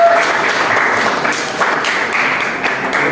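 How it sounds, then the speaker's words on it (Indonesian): A class of students at a history teaching practice session claps together in a steady, dense patter of hands that stays loud and continuous throughout. "tepuk tangan buat semuanya"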